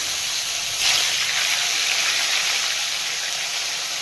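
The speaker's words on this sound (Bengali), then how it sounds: "আগে মাছগুলো ভাজবো এবারে এই মাছগুলোকে লবণ হলুদ মাখা আমি ছেড়ে দিয়ে" Shol fish coated in salt and turmeric dropped into hot oil, a loud steady hiss and sizzle that flares briefly at first then holds evenly, close by and alone.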